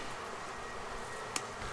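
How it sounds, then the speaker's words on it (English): Honeybees buzz in an opened beehive during winter preparation, a steady, soft hum that continues throughout with one brief sharp click near the end. "The bees are living on these four frames here."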